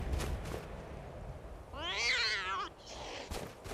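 A cat in the video game Skyrim lets out one drawn-out, rising and falling meow over steady background ambience, moderately loud and alone without speech.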